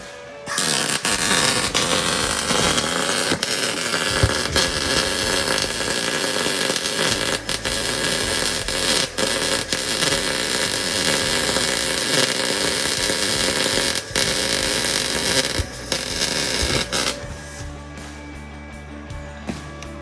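An Arccaptian Mig 200 MIG welder lays a bead: loud, continuous crackling buzz with sharp pops, running steadily for most of the stretch before cutting off, leaving quieter background noise.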